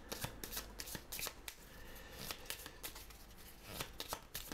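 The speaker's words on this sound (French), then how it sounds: "Je dois maintenant piocher 8 cartes." Playing cards drawn and shuffled from a deck while setting up the Goblivion board game, heard as a quick run of close, crisp riffling and flicking snaps in uneven bursts, with no speech.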